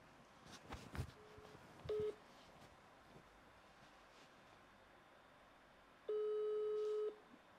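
Two electronic telephone tones from a call being dialed over faint background hiss: a short beep first, then a longer steady tone lasting about a second, with no voices.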